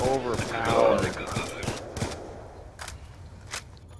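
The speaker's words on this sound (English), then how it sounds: "The SMG is so overpowered." SMG fire in a multiplayer video game crackles in short rapid bursts under excited player talk, then thins out into a few scattered distant shots.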